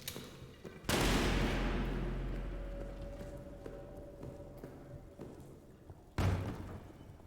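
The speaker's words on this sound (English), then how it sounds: "The soldier is scripted to shoot a rat when you approach." A soldier's gunshot at a rat in Amnesia: The Bunker, a loud close blast with a long rumbling reverberant tail, then a second heavy shot or thump several seconds later.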